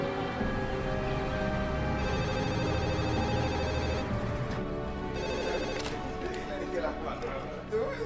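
A desk telephone rings repeatedly in an office setting, its bell-like trill recurring in bursts over a dense background of noise and voices, with people talking.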